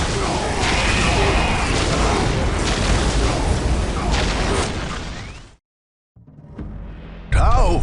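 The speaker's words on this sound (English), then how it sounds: "This area must be cleansed with orbital fire." Orbital bombardment in the strategy game Dawn of War Soulstorm: a dense, roaring barrage of explosions that rumbles for several seconds, cuts to silence, then returns fainter before another sharp burst.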